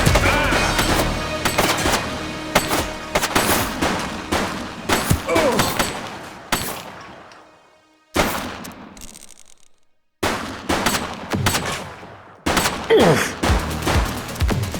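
Gunfire in The Precinct video game, loud and close, with rapid bursts of shots and heavy booms. A few brief lulls of near silence break up the firing.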